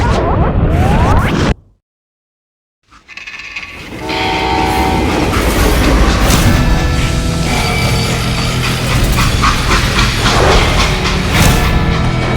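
Train in the Call of Juarez Gunslinger video game, a loud rumbling rail car with clattering, hissing and horn-like tones, broken by a sudden second of silence before the roaring motion resumes and continues steadily.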